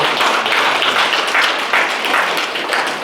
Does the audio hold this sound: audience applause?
yes